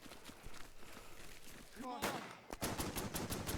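Gunfire from trench fighting in the video game Burden of Command, a ragged volley of shots breaking out after a brief whistling rise, loud and close, with sharp repeated cracks continuing over a busy battlefield background.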